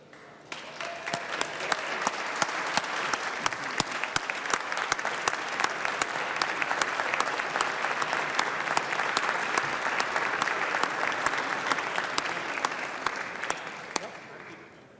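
Sustained applause fills a legislative House chamber as a former representative is welcomed, a steady crowd of clapping hands that swells quickly, holds for over ten seconds, then tapers off at the end.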